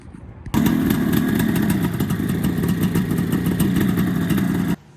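A 1973 Yamaha RD350 two-stroke motorcycle engine starts abruptly and runs steadily, a loud, close, buzzing and rattling mid-pitched drone that stops cleanly after about four seconds.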